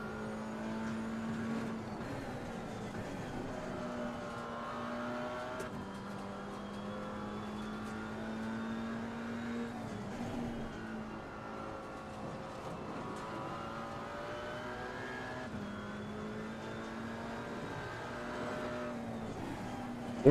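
Race car engine in Assetto Corsa Competizione, a continuous close drone that repeatedly rises in pitch and drops back at each gear change, steady in loudness throughout.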